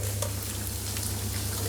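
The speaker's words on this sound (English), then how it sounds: "I'm going to go into the same pan with the asparagus now" Asparagus fries in a pan, giving a steady, close sizzle that fills the short moment with no voices.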